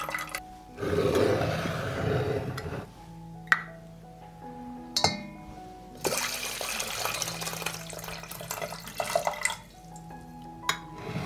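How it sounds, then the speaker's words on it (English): Liquid is poured from a glass jar into a cooking pot: a splashing pour, a pause, then a longer, steadier stream, with occasional sharp clinks of glass against metal, quiet and close. "I will pour the liquid from the jar into the pot."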